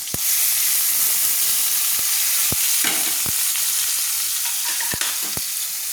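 Chopped onions fry in a hot pan beside tomatoes for a fish and potato curry, giving a steady, close sizzle with a few sharp taps of a spoon stirring through it.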